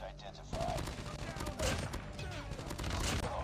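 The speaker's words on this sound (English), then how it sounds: "All right, time to get all these hipfires." Rapid hipfire from a gold Type25 rifle in Call of Duty Mobile, a dense, continuous stream of close, loud gunshots after a short quiet opening.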